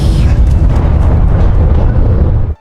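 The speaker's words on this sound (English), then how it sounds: "A massive explosion shook the ground as flames engulfed the house." A massive explosion as a smart-home villa blows up, a loud sustained roaring blast rumbling for over two seconds before cutting off abruptly.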